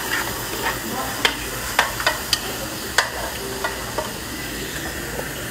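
Crushed garlic frying in a hot pan, a steady close sizzle with sharp clicks and taps of a utensil scattered throughout, no voices.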